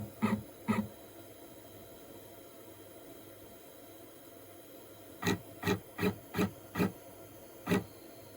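A FOXAlien 4040-XE CNC carving machine jogs its axis in short steps, giving a series of brief motor whirs: two near the start, then a run of five evenly spaced bursts and one more at the end, over a steady background hiss.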